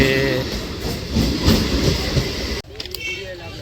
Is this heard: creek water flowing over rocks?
no